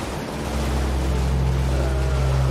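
Boat gliding across water in Elden Ring, a steady low engine-like drone with a faint hum and a wash of waves and surf that rises slightly and then holds constant, with no voices.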